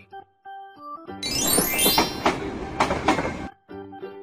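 Playful game music with a cartoon train effect from a toddler vehicle puzzle game: short chiming tones, then a burst of whistle and chugging lasting about two seconds, and more chimes after.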